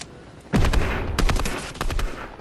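Video game gunfire cracks in loud, close bursts: a sharp opening shot followed by a quick string of rapid shots with short gaps, with no talking.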